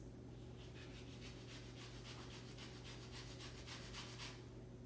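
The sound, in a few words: grating lemon peel on a grater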